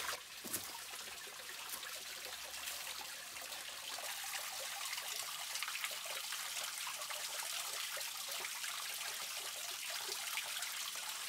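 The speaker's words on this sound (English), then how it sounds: "There is still a lot of water flowing." Water flows and trickles steadily nearby in a creek running low through a eucalyptus forest, a bright continuous babble with no voices.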